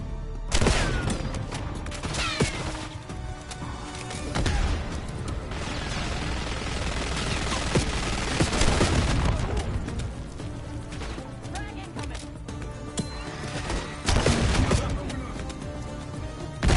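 Minigun fire and a grenade in the video game Call of Duty: Black Ops 6, with loud sustained automatic fire and heavy blasts spread across a dense, chaotic battle soundscape, and voices calling out between bursts.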